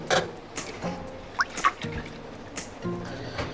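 Water drips and trickles from sushi rice in a strainer in small, irregular splashes, quiet and close, with a few soft squishy sounds in between.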